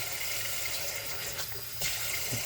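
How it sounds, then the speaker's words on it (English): Cold water runs steadily from a tap into a sink, a close, hissing splash with a brief shift in flow partway through. "throw a bit of cold water in there"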